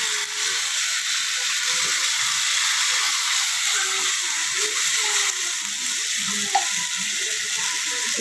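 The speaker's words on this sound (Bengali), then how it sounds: "এটার মধ্যে একটু মশলা ধোয়া জলটা দেবো" Spice-rinsing water hits a hot pan of potato curry, giving a loud, steady sizzling hiss that lasts throughout, with faint stirring and clinks underneath.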